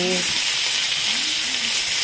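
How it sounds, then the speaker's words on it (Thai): Steady, loud sizzling of marinated pork frying in a hot pan for pad see ew, a continuous bright hiss filling the whole clip with no talking. "ตั้งกระทะแล้วนะคะ จะใส่หมูลงไปก่อนค่ะ"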